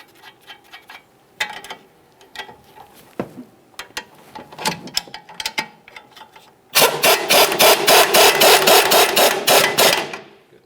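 On a 2013-2015 Chevrolet Malibu, scattered light metallic clicks and taps come first, then a loud, rapid, buzzing run of clicks for about four seconds as a tool spins on the sway bar link mounting nut, close and with no voices.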